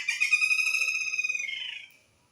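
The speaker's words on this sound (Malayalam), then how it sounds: "ഇവിടെ നിറയെ കിളികളെ ചിലയ്ക്കുന്നത് കേട്ടോ" A single bird in a home kitchen garden gives a bright, rapid trilling call lasting under two seconds, close and clear against near silence before it fades out.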